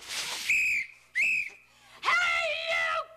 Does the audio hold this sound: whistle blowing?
yes